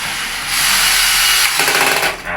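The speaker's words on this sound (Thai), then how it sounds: "จากนั้นครับเราก็อัดด้วย สว่านดีซีเนี่ยครับ" A cordless drill whirs loudly and steadily, driving screws while fitting a toilet, its motor pitch shifting partway through as it drives in, with no voices.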